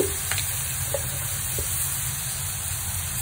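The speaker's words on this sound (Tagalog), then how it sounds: "Ayan, kumukulo na." Adobo sauce of soy sauce, vinegar and salt bubbles and sizzles softly in a pan on the stove, a steady low simmer with a few faint pops, nothing else audible.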